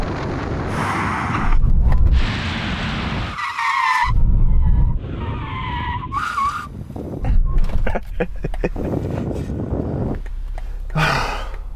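A BMW brakes hard in a drag race with its ABS failed, loud bursts of tyre skid and squeal broken by pauses as the brakes are released and reapplied, with engine noise between.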